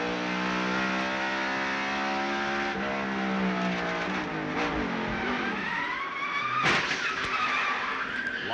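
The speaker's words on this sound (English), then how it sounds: "You hear that tire blow just before he got in the wall?" A NASCAR stock car at Richmond Raceway in the 1998 Pontiac Excitement 400, its engine screaming loudly, then a sudden tire blowout and a scraping, skidding crash into the wall.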